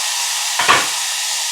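Tomatoes sautéing in sesame oil with curry leaves in a pan give a steady, loud sizzling hiss, with one brief stir or shuffle of the ingredients cutting in partway through.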